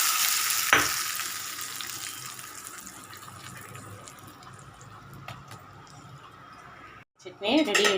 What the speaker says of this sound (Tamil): இப்போ வந்து எண்ணெய் வச்சு நம்ம தாளிக்க போகிறோம்.